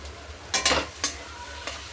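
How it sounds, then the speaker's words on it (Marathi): A spoon scrapes and stirs salt through mashed eggplant bharit in a pan, a few quick scraping strokes over a soft, steady sizzle, close and brief, with no speech. "मीठ पूर्ण भरतामध्ये मिक्स करून घेऊ."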